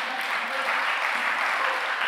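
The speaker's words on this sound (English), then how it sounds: "Clap to the Lord." Congregation at a midweek church service clapping, a sustained, even roar of many hands, steady and fairly loud from start to finish.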